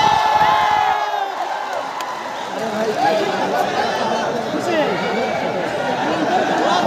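A large crowd at a Bhojpuri stage show in Patna, loud and close, cheering, whooping and shouting in a constant roar, with a voice over the din.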